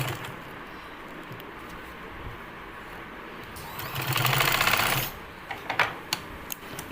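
A sewing machine hums and rattles in a short, steady run of stitches on a belt salwar, rising briefly louder in the middle, with a few sharp clicks afterward.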